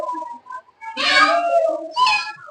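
The cat sprite in the Scratch coding program meows twice, loud and close, with a long drawn-out first meow followed by a shorter second one.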